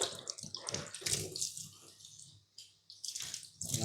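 A hair piece being washed in water, with splashing and sloshing in irregular bursts, fairly close and quiet, ending in a brief pause before the splashing resumes.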